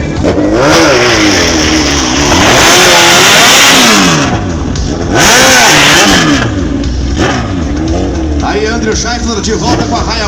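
A Suzuki Hayabusa motorcycle revs hard on the line at a motorcycle drag racing championship, loud and close, its engine note climbing and falling in repeated surges while an announcer talks over it.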